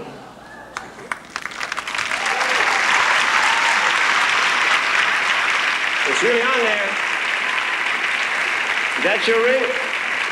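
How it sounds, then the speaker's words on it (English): Applause from a theatre audience at a televised magic show, building from scattered claps into a full, sustained ovation that stays strong to the end, with a voice speaking over it at moments. "Give her a big round of applause."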